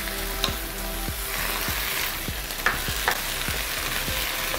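Canned diced tomatoes go into a pot of simmering eggplant stew, setting off a steady sizzle and bubbling with repeated stirring strokes that knock at a regular rhythm, close and moderately loud.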